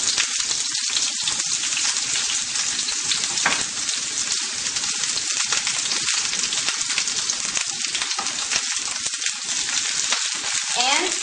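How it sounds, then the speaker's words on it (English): Onions sizzling in a generous pour of olive oil in a pan, a steady loud crackling fry with occasional stirring noises, continuous throughout. "This is where we're going to saute our vegetables."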